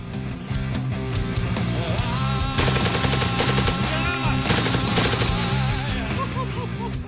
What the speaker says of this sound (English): He's not so good with the machine gun.